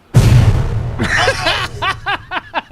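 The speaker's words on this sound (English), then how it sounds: "Explosion!" A soundboard explosion effect plays as a loud, immediate boom with a long rumbling tail, then men laugh and chuckle over it.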